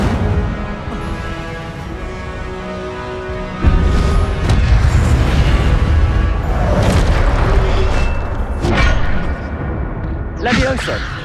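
Incendio fire spell cast in Hogwarts Legacy, a sudden loud whooshing boom that starts about four seconds in and rumbles on under game noise and battle sounds, with brief voices calling out.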